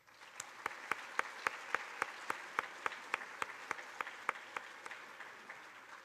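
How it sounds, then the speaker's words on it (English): Audience applause at a school board student recognition ceremony: steady, fairly quiet clapping in a room, with a few sharp individual claps standing out at a regular pace. "Round of applause."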